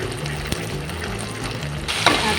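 Ginger-garlic paste lightly frying in a pan while cooking chana paneer, a steady close sizzle with soft stirring scrapes throughout and a brighter burst of sizzling near the end.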